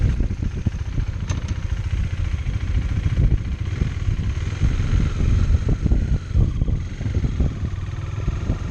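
A 2018 KTM 390 Duke street bike rolls around the block, its engine a steady close rumble with slight throttle changes, mixed with wind buffeting the microphone and no talking.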